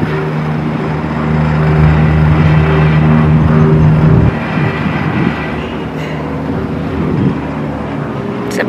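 A gondola cable car ride in Christchurch, New Zealand: a continuous loud mechanical hum and rumble inside the cabin, with a steady droning tone that shifts partway through, and no talking.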